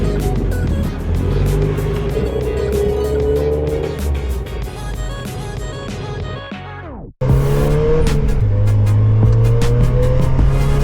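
A 1991 Mazda Miata engine pulls hard and loud through its gears, revving up with rising pitch, dropping abruptly during a brief shift pause, then surging again under full throttle, close and steady with no talk.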